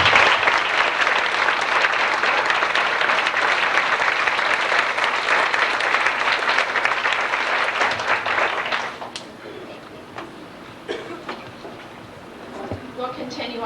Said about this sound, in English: we're going to stop now and let you applaud for them